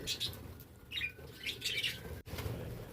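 Birds chirp in fruit-laden jujube trees, giving faint, scattered high tweets in short bursts over a soft outdoor background, with a brief flutter of activity and no talking.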